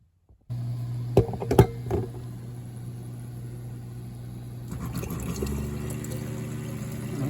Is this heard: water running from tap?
yes